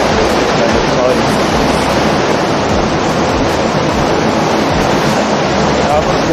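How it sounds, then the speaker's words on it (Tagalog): Mimbalot Falls in Iligan City pours in a steady, loud broadband roar of falling water, constant throughout with no breaks, and a voice speaks over it. "So yan yung Mimbalot Falls."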